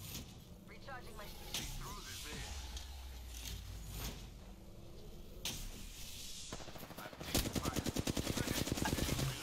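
Teammates fire in a video game, with rapid automatic gunfire bursts and single shots over continuous background noise. A fast full-auto burst comes near the end, and players talk throughout.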